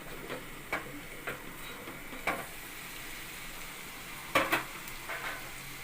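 Onions and green chillies fry in a pan after cashew pieces, for a paneer curry, with a soft steady sizzle and a few sharp ticks and clinks of stirring, moderately quiet with no talk.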